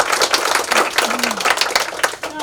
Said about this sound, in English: Give our candidates a nice round of applause.